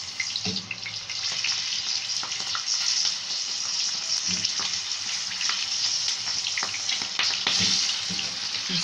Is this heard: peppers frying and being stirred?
yes